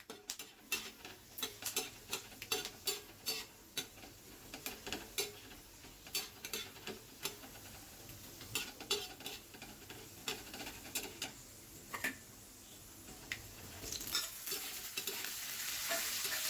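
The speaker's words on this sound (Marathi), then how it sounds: "शेंगदाणे भाजून झाले की याच्यात मिरच्या टाकायच्या आहे. मिरच्या भाजून घ्यायच्या आहे." Peanuts being dry-roasted in a pan for green chilli thecha are stirred with a spatula, producing a rapid run of close, rhythmic scraping strokes with a light sizzle underneath, continuing steadily without speech.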